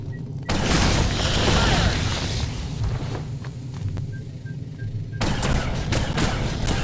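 Gunfire in the sci-fi video game Genesis: Alpha One, a dense, loud stream of rapid shots and booms that drops away briefly and then resumes at full force.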